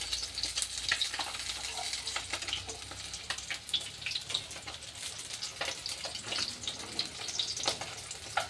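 Fish frying in hot oil, a steady crackling sizzle with dense spitting pops that carries on throughout, fairly quiet and close with no voices.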